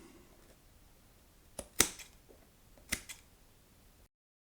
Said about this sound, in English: I'm going to have to cut some of this out. So that'll be pretty easy since it is foam.